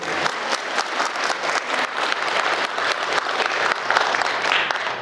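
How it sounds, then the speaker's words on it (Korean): An audience at a lecture in a Catholic parish church claps in a dense, sustained burst of applause welcoming a priest, steady and fairly loud throughout with no talking over it. "큰 박수 부탁드립니다"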